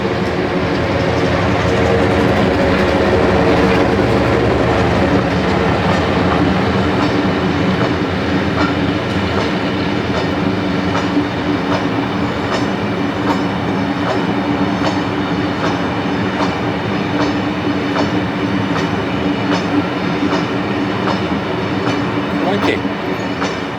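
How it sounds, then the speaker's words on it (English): An old diesel shunter locomotive rumbles steadily past at close range, its engine droning under rhythmic clicking wheels on the rails throughout. "An old diesel shunter."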